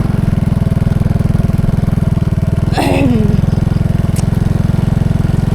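A motorcycle ridden through a village, its engine chugging in a steady, loud, close rhythm, with a short voice briefly heard over it.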